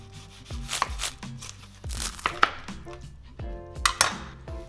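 A knife slices through a crispy deep-fried Japanese harumaki spring roll on a board, giving a few sharp crunchy crackles and scraping strokes, close and clear with no talking.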